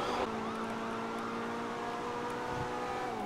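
A police siren in a GTA roleplay video game wails steadily at moderate distance, with its rising and falling tones layered over continuous car engine rumble.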